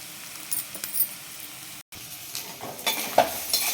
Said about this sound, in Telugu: హై ఫ్లేమ్లోనే ఇప్పుడు బాగా ఫాస్ట్ ఫాస్ట్గా స్మోకీ ఫ్లేవర్ వచ్చేలాగా కలుపుకొని